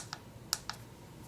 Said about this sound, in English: I use the up and down arrow keys to change the stimulation setting.